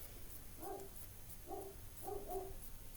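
A dog barks faintly in the distance indoors, four short muffled woofs in an irregular pattern over a low steady hum.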